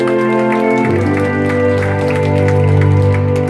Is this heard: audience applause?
yes